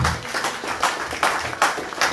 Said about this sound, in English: I will clap for Jesus.